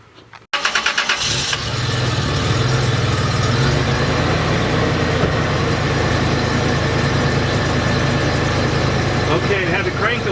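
A 2004 Toyota Tacoma four-door prerunner cranks briefly after a fuel filter change, catches and settles into a steady close idle, with a voice talking over the engine.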